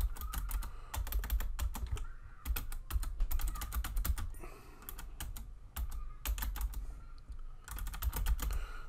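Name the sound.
typing text on a computer keyboard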